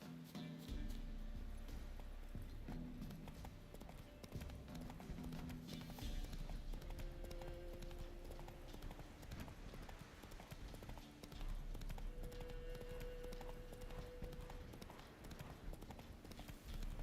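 Horse hooves clip-clopping in a steady galloping rhythm as Roach runs in The Witcher 3, loud and continuous throughout, with game music and ambient sound layered underneath.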